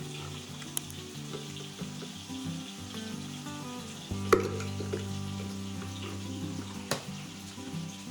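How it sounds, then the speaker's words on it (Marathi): Washed potato pieces, salted, sizzle and crackle steadily in hot oil for homemade French fries, a continuous frying hiss with small pops and a louder burst midway, partly under background music. "आपल्या शेफनी ते बटाट्याचे पीसेस मस्त धुवून तेलामध्ये परतायला टाकलेले आहेत"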